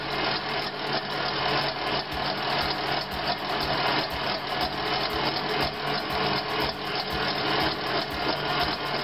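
Egg whites for a Mennonite peanut butter meringue pie being whipped into a foam, a steady, dense rasping whir running continuously and close up with an even rhythm throughout.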